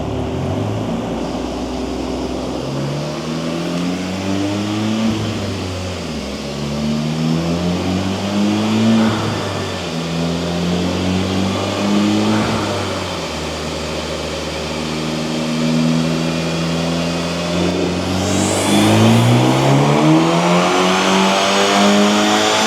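A 2024 Acura Integra engine on a Hondata flex-fuel E85 tune runs repeated pulls, revving up in long climbing sweeps, dropping back, then climbing again, loud and near with no talking.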